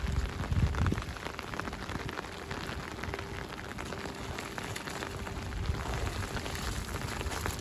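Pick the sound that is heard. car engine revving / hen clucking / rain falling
rain falling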